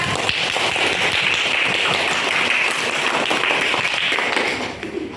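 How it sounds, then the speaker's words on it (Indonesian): Classroom applause for a group of students: dense, steady clapping from many hands fills the room throughout, easing off slightly at the very end. "Beri aplaus untuk kelompok 4"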